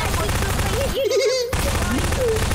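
A shootout in Garry's Mod brings rapid, dense bursts of gunfire that fill most of the moment, with a voice talking excitedly over it and a brief break in the middle.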